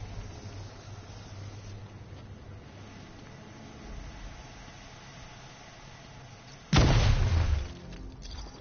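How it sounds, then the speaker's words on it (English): A single loud, close explosion bursts out near the end of a stretch of low ambient rumble in the video game Batman: Arkham Knight, then quickly fades. "I gotta explode this."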